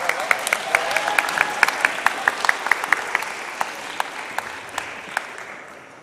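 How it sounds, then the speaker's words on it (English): A middle school audience at a 7th grade athletic awards ceremony gives the girls' team a warm round of applause: dense, steady clapping from many hands with sharp individual claps on top, slowly thinning toward the end. "let's give these girls a big round of applause"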